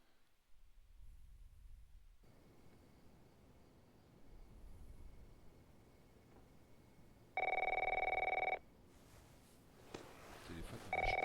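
An old telephone bell ringing in The Last of Us Part 1 on PC, two loud sustained rings near the end over a low ambient room hum with faint movement.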